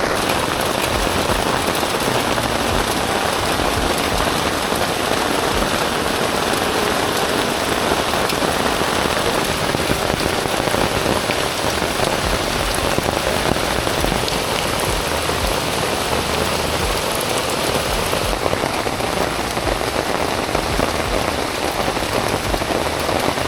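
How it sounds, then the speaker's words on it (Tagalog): Heavy rain pours steadily and loudly on a family camping trip at a farm resort in Meycauayan, a dense, unbroken hiss of drops pounding surfaces with no pauses. "Ang lakas din ng ulan."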